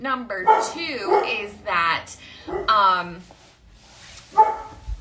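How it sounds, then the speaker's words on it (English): A dog barks and yips intermittently in the background of a home livestream, with a garbage truck outside, sounding moderately close under continuous talking. "so sorry about the dog barking"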